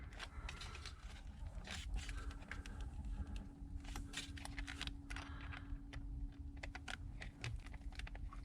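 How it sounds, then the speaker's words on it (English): A 1/4 inch nut driver tightens a hose clamp on a plastic fitting of an oil separator on a Honda CR-V or Accord 1.5L, giving quiet, rapid ratcheting clicks and small scrapes close by over a faint steady hum. "Now you can tighten this clamp up with a flathead screwdriver or a 1/4 inch nut driver."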